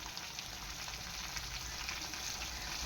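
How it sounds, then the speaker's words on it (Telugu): Tomatoes fry slowly in a pan over medium heat, giving a steady, soft sizzle that holds even throughout without pauses or talk. "నేను ఇలా మలిపేసి ఫ్రై చేసుకుంటున్నాను"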